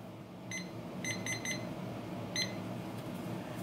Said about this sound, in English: Let me set my timer, y'all.